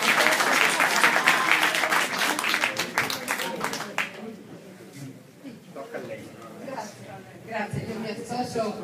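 Loud applause from a crowd at an inauguration event at a seniors' centre in Rome, dense clapping that gradually thins and fades into scattered claps and murmuring.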